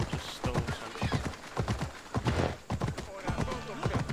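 Hooves clip-clop in a steady, uneven trot close by in an Assassin's Creed Origins video game, with a voice talking faintly underneath.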